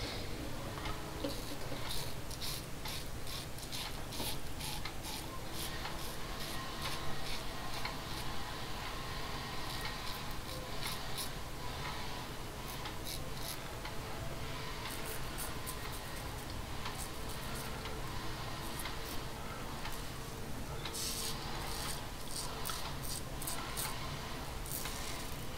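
A RazoRock GameChanger .68 safety razor scrapes through Proraso menthol shaving cream, giving steady close-up raspy strokes with rapid ticking stubble cuts throughout, fairly loud and without speech.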